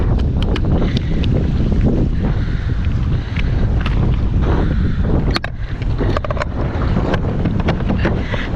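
Strong ocean wind roars around a fishing kayak out at sea, a loud, constant gusting rush buffeting the microphone with brief sharper thumps, and no voices.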